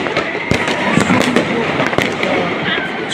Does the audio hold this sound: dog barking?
no